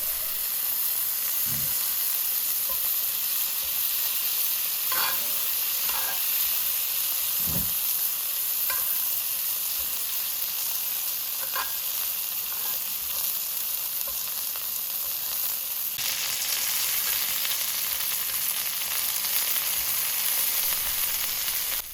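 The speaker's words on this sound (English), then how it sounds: "Baste that sizzling butter on the fillet and give it a good coverage." Steady butter sizzling and spitting in a hot pan, with occasional soft clicks of a spoon basting a beef tenderloin fillet, continuous and close.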